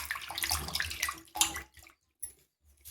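Tomatoes splash and slosh in a bowl of water for gongura chutney prep, with close, irregular bursts of water noise and a sharp splash midway, then a few brief plops after a quiet gap.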